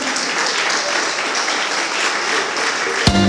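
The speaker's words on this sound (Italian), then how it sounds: "Facciamo un applauso." A crowd at a film festival in Ruvo del Monte, Basilicata, Italy applauds steadily, a dense continuous clatter of clapping that stays level throughout and ends with a sharp knock.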